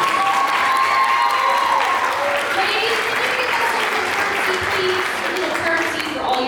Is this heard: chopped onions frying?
no